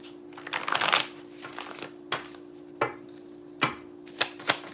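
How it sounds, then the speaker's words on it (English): A deck of cards being shuffled up close, a long riffle burst followed by several sharp separate snaps and bridge taps, alone with a faint steady hum underneath. "let's just shuffle"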